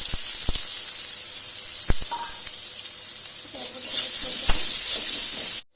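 Cumin and chopped onions fry in hot oil in a home kitchen, a steady close sizzling hiss with a few sharp crackles and pops and some stirring, ending abruptly.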